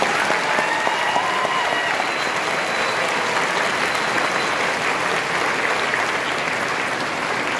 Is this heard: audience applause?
yes